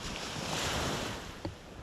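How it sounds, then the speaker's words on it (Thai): Wind and sea waves on a coast after rain, a continuous broad rushing wash with gusty microphone buffeting and one brief knock near the end, no voices. "แล้วก็ตอนนี้ก็ คลื่นลมก็ เริ่มเบาแล้ว"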